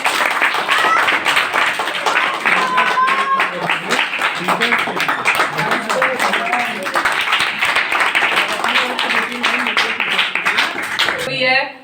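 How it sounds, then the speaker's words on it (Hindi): Audience clapping at a coaching institute's annual day celebration, loud and sustained with sharp individual claps. Speech and music sit underneath, and it cuts off abruptly at the end. "आप एक बार कोचिंग के लिए भी जोरदार तालियां हो जाए।"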